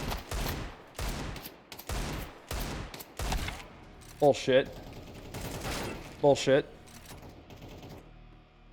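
Shooter video game gunfire with a Desert Eagle pistol: a run of loud, evenly spaced shots, then two sharp rapid bursts of several shots each, mixed with a player's voice swearing between them.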